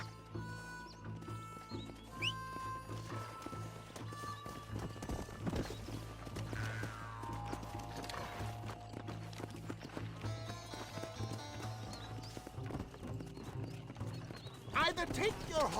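Horse hooves clip-clop steadily through most of the stretch in the Western video game Red Dead Redemption, set under ongoing character dialogue and background music.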